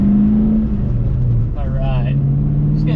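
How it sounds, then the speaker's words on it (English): A boosted Ford Mustang engine hums low and steady at close range, shifting pitch slightly as it drives off, with someone talking over it. "Gonna take it down the road real quick, get some heat in this car"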